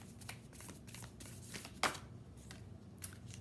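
Tarot cards are shuffled close up, a soft riffling flutter of card edges with one sharper snap as a card is pulled, quiet and unaccompanied by speech.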